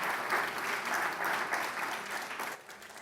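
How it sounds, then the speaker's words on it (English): Applause from a summit audience for Kenyatta as host president, a steady dense clapping that fills the hall at full strength and eases slightly toward the end. "Once again, round of applause for the host president, Uhuru Muigai Kenyatta."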